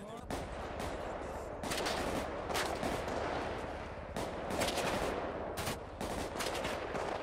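Gunfire exchange in a GTA roleplay game, bursts of rapid shots cracking out in clusters with short gaps between them, loud and close, with voices talking faintly underneath.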